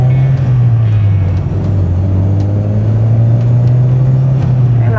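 A Toyota Great Corolla 1.6 SE-G sedan, an older model, pulls away under acceleration. The engine gives a steady low drone that holds its pitch the whole way, loud and close as if heard from inside the cabin, with no talk over it.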